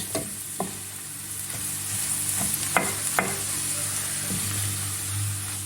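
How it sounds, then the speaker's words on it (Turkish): Chopped onion sizzles steadily in hot oil while a spoon scrapes and stirs through it, giving a few soft clacks over a constant frying hiss. "Güzelce karıştıralım. Soğan yağ ile buluşturalım."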